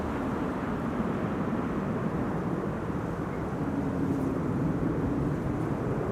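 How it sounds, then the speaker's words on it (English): A United Boeing 777-200 airliner comes in to land, its broad engine rumble and roar steady and moderately distant throughout, with no voices over it. "United 777-200 is about to land here, having flown 9 hours and 37 minutes according to flight radar"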